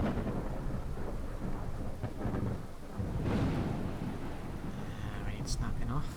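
Fallout 4 thunderstorm with heavy continuous rain and rolling thunder, loud and steady throughout with swells of rumble, and a faint voice murmuring beneath.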